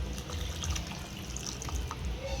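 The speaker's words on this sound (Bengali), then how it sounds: "এখন ঝোলের জন্য জল দিয়ে দেবো।" Water poured into a pan of fish curry with potatoes and spices, a soft continuous splashing and trickle, close and fairly quiet.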